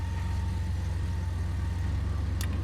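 A 3.5-liter twin-turbo V6 in a 2017 Lincoln Navigator idles with a steady, even low rumble, close and continuous with no talk over it.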